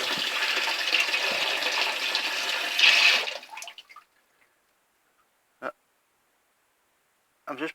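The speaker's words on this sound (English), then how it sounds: "So we can see the water flying out there now." Water rushes loudly into a toilet cistern through a leaking ball cock, a steady hiss lasting about three seconds before cutting off. Two brief, faint drips or taps follow in near silence.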